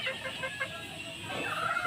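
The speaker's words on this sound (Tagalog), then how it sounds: "Yung ang ating mga alagang manok" Chickens cluck softly nearby, short throaty calls overlapping for a brief moment against light background noise.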